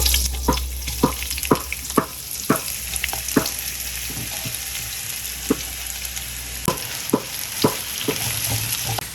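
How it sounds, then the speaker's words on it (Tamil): Chopped onions hit hot oil for a fish biryani, a loud steady sizzle broken by repeated sharp scraping stirs from a utensil in the pan, with no voice over it. "now we're going to put our chopped onions inside."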